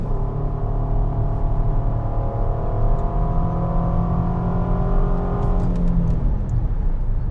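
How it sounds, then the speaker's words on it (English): A 2013 Ford Taurus SHO with a 6-speed automatic accelerates steadily. Its engine note climbs in a smooth, linear rise, then eases off near the end. No one speaks over the continuous drone. "Surprisingly, it's not the fastest thing in the world, but it does get up to speed."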